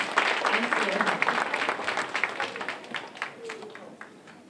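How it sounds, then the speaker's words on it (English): An audience at a middle school spring band concert applauds, a lively burst of clapping that starts full and gradually thins toward the end, with some voices mixed in. "Give them a round of applause."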